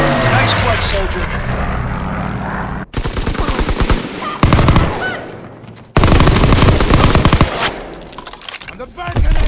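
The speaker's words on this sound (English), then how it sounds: "Fighter pilot inbound, strafing the target." In Call of Duty WWII, a fighter plane's strafing run delivers loud bursts of rapid machine-gun fire over a roaring propeller engine, broken by short gaps, with shouted game voices mixed in.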